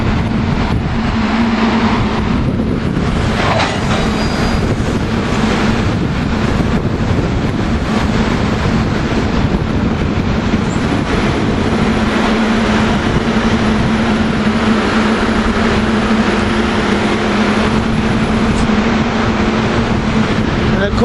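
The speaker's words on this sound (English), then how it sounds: "So, he's a Thorndale Express train." A Thorndale Express commuter train passes at Bryn Mawr in a loud, continuous rumble and roar that carries on for the whole stretch, with faint voices under it.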